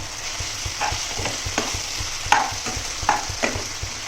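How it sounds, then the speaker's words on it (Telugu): Boiled tomatoes and onions fry in hot oil in a pan for a taro tamarind stew, giving a steady close sizzle broken by regular clicks and scrapes of a spoon stirring. "ఇప్పుడు ఇందులోకి బాయిల్ చేసుకుని టమాటాని వేసుకోవాలి."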